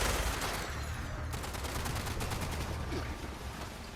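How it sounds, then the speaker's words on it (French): Rapid automatic gunfire from a turret in the video game Fallout 76, a dense rattling burst that stays fairly distant and muffled, with quick repeated shots continuing throughout. "Il y a encore des tirs vers l'ouest."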